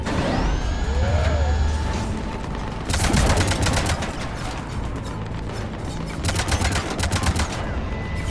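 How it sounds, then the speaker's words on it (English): Ship cannons fire in Mass Effect 3 during the Omega mission, rapid bursts of heavy gunfire in two volleys with mechanical game sounds and a rising tonal sweep beforehand. "Cannons engaged."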